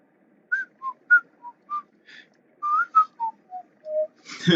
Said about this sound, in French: J'imagine trop le personnage en train de siffloter.